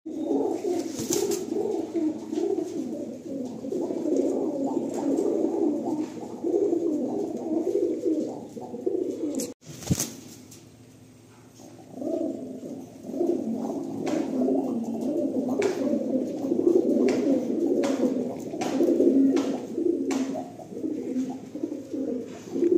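Pigeons coo steadily in a loft of Fulsira pigeons, with low, continuous, overlapping cooing and occasional sharp rustles or wing flaps; there is a brief lull near the middle before the cooing resumes at close range.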